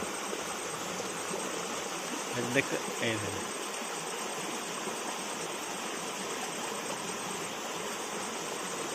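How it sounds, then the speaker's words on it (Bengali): A waterfall rushes in a steady, continuous wash of broadband noise that stays even throughout, with a brief faint voice-like sound early on. "ঝর্নার আওয়াজ দেখেন"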